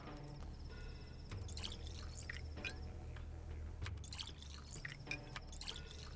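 Quiet water dripping and trickling while a container is filled in the Pathologic 2 video game, soft liquid plinks repeating over a low steady background.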